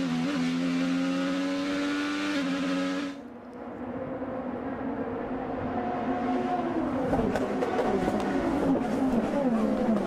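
IndyCar race cars at speed on track during a race: a sustained loud engine whine with shifting pitch, a brief dip as cars pass, then more engine roar building from several cars, no talk.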